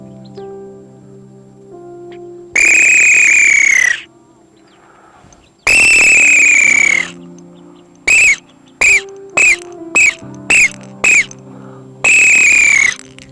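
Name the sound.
person imitating a whistle-like bird call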